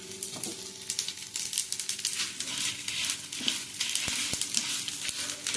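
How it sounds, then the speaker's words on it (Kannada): Dosa batter sizzling on a hot pan, a steady close hiss and crackle with a few sharp clinks of a utensil, no voices. "ಇಲ್ಲಿ ನಮ್ಮ ದೋಸೆ ರೆಡಿ ಆಗ್ತಾನೆ ಉಂಟು."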